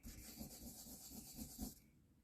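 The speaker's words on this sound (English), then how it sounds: "that's what a little sanding is for" Wood being hand-sanded during finishing, a steady close rasping rub in short strokes that stops abruptly near the end.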